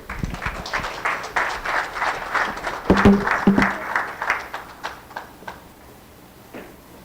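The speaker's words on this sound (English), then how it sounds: "Let's give you a big round of applause, ladies and gentlemen." Applause at a UN Tourism regional forum on gastronomy tourism for Africa, an audience clapping for several seconds and then tapering off into a few scattered claps, with faint talk mixed in.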